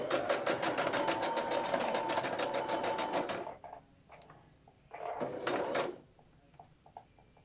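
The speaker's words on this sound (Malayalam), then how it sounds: "ഇനി സ്റ്റിച്ച് ചെയ്യാം." A sewing machine stitches a petticoat in a fast, steady mechanical run for about three seconds, then stops, followed by a brief second burst of stitching and scattered small handling clicks.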